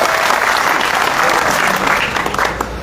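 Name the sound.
crowd applauding at a village election gathering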